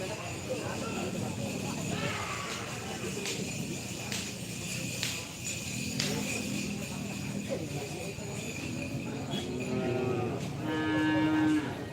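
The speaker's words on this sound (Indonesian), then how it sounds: "Ini banyak sapi besarnya ya." Cattle at a karapan sapi bull race in Sumenep moo repeatedly over a dense crowd noise, with people talking throughout and the lowing standing out clearly toward the end.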